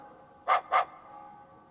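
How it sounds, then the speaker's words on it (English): Two quick, sharp barks from a small dog in a video game, close and loud, spaced a fraction of a second apart over a faint steady background hum. "isn't this Rita's dog?"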